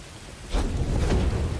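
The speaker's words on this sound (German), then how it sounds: "Wie kann ich den Regen hier ausschalten?" Rain pours down in the video game Star Wars Jedi: Fallen Order, a steady hiss that swells into a heavier roar with a low thunder-like rumble, with no voices.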